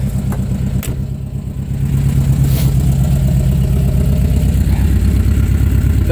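A 1970 VW campervan, an ex-fire-truck German import with a 1600 engine, running loudly close by: a steady low mechanical drone that swells slightly after the first couple of seconds and holds, with no talk.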